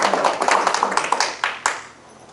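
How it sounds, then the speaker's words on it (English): An audience claps for speaker Kathleen Wildwood at an Earth spirituality talk: a brief spatter of distinct, close claps that thins out and fades to near silence within about two seconds. "Give another warm round of applause for Kathleen Wildwood"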